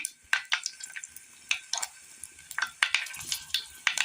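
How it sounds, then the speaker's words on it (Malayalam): Green chili sputters in hot oil with popped mustard seeds, with irregular sharp pops and crackles over a faint sizzle, close up. "കടുക് പൊട്ടി വരുമ്പോൾ ഇതിലേക്ക് നമുക്ക് ഒരു പച്ചമുളക് ഇട്ട് കൊടുക്കാം."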